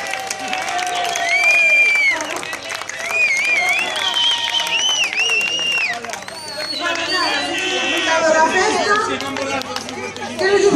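At a village festival in San Lorenzo de Piñor, a crowd claps and cheers in loud waves while people chatter and shout over the applause.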